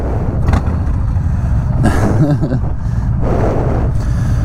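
A Harley-Davidson Street Bob 107 motorcycle being ridden gives a loud, continuous low engine rumble, heavily mixed with buffeting wind noise.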